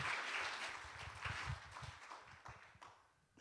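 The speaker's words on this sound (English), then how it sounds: "Come on and give God a hand clap of praise." A church congregation claps in praise during a worship service, a short burst of hand claps that is brisk at first and thins out over a few seconds.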